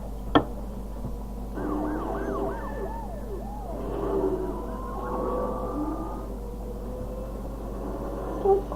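Police car siren in the Need for Speed Undercover video game, a wailing, sweeping tone running through most of the clip over steady game engine rumble, with a sharp knock near the start and another near the end.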